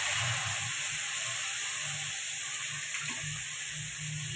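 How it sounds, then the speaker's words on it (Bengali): Eggplant frying in a pan with cumin and turmeric powder for bean dal, a soft, even, continuous sizzle with faint stirring scrapes and no talking. "এবার দিয়ে দিল বেগুন।"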